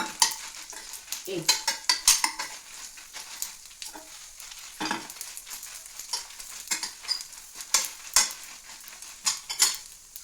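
Chillies frying in oil in a pan for a chicken gravy, a light sizzle under frequent metallic spoon scrapes and clinks against the pan, in irregular strokes.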